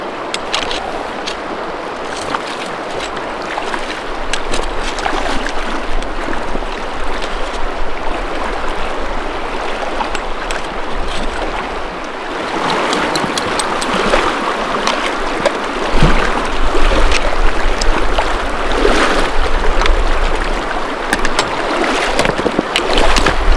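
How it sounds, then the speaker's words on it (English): A person wading across a mellow river, with steady close splashing and rushing water around the legs throughout, growing slightly louder and busier toward the end, with no talking. "thankfully this one's pretty doggone mellow, so I'm going to just ease my way across"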